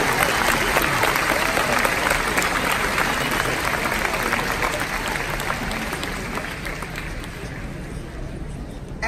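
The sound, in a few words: round of applause for the runners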